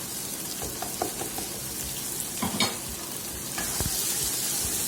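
Dry ground spices hitting hot oil with onion-chilli masala for black chana curry, a steady close sizzle and hiss with a few scraping stirs, brightening louder near the end.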